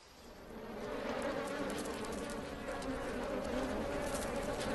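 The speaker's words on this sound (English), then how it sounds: "These two are honeybees. They made their hive in a hollow tree." Native Japanese honeybees at a hive built inside a hollow tree give a steady, close, continuous buzzing hum that holds at even loudness throughout, with no voices.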